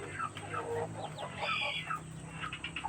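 Three-month-old Mardi chickens, a kampung breed, cluck steadily in a close, busy chorus of overlapping calls and short squawks at a farm.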